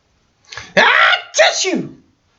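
A voice imitates a sneeze: a short breathy intake, then two loud bursting 'ah-choo' sounds, closely spaced, up front and fairly loud.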